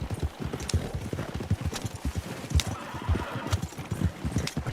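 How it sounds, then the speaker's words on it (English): A horse pulling a cart clip-clops steadily at a close distance, its hooves striking in a quick, even rhythm the whole time, with an occasional faint whinny and no talking. "this is a different horse on this particular cart."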